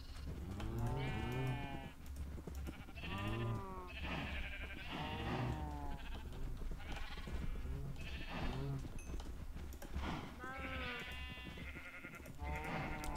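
Cows mooing in the video game Minecraft, a series of drawn-out moos about every second or two across the whole stretch, loud and close, with bleat-like calls mixed in and no speech.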